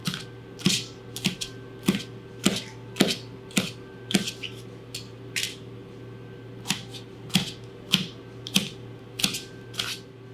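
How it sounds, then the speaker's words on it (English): A knife slices chicken for a stir fry on a cutting board in a series of sharp, evenly spaced chops, close and fairly loud, with a steady hum of room noise underneath. "And here is how you slice it into about the same size as everything else."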